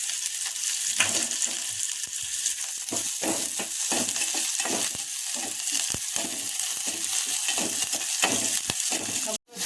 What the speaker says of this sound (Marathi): कांदा टाकल्यानंतर हा कढीपत्ता पण टाकून घेत आहे।